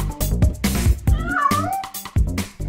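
A cat meows several times in quick succession, loud and close, with rising and falling drawn-out cries broken by short pauses.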